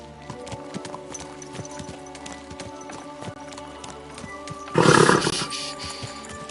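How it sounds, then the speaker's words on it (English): Horse hooves clip-clop steadily in Kingdom Come Deliverance II, a regular close trot with a brief louder burst of movement near the end, no talk over it. "Easy, good horse."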